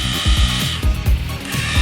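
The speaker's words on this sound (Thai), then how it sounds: "มาดูการเจาะ กระแทกกัน กับเสาปูน" A DeWALT DCD996 18-volt cordless hammer drill bores into a concrete pillar, giving loud, close bursts of rapid hammering that repeat in a steady rhythm with brief gaps between them.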